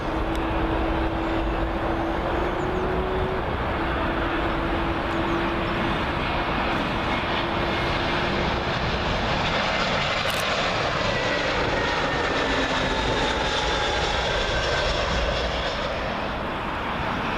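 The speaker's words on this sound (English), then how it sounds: "Up next, British Airways A320. This one arriving in from Berlin." A British Airways A320 arriving at Heathrow roars past on approach, a broad steady jet rumble with a faint whine, loud and sustained for the whole stretch with no speech.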